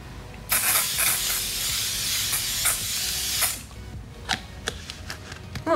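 Thermal water facial spray misted onto the face during everyday makeup: one sustained close hiss of about three seconds, followed by a few short faint clicks and rustles.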